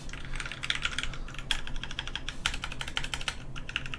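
Fast, steady typing on a custom Singa V3 keyboard fitted with Novelkeys Cream switches, with close, crisp clacking keystrokes running continuously without any voice.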